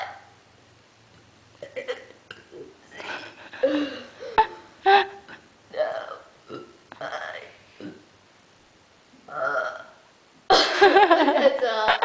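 A loud, long burp erupts at the end, following a stretch of people talking and laughing.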